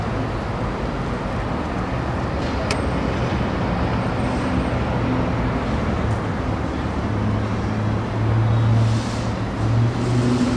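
Cars in street traffic rumble past in a steady roadway wash, with a few louder swells near the end and no talking.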